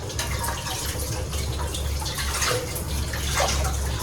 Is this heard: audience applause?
no